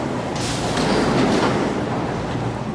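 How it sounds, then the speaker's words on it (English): A Vienna U-Bahn metro train runs along the line with a loud, steady rumble and rattle of wheels and carriages, continuous throughout with no talking. "Then there is the U-Bahn"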